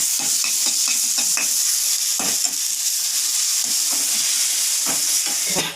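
A frying mixture with coriander leaves stirred in a pan, a steady close sizzle overlaid with quick rhythmic scraping strokes of a spatula, no talk.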